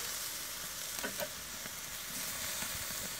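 Marinated Korean BBQ short ribs sizzle on an Akorn Kamado charcoal grill, a steady close crackling hiss with no one talking.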